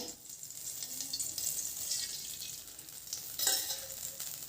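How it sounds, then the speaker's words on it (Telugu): Raw papaya pieces frying in oil in a kadai make a soft, continuous sizzle with occasional stirring scrapes. It is fairly quiet and close, with no talking. "అదే కడాయిలోనే ఆయిల్ వేసుకొని బొప్పాయికాయ వేయించుకుందాము"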